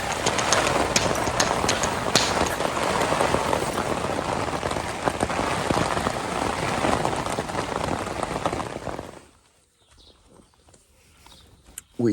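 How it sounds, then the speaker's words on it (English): Heavy storm rain pelting steadily on a surface at a campsite in the Netherlands, loud and dense for about nine seconds before cutting off abruptly to near quiet. "Here comes the rain."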